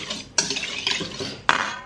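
Mustard being mixed into food in a home kitchen, heard as close spoon and utensil scrapes and clinks against a dish, with a couple of sharper knocks, no talking.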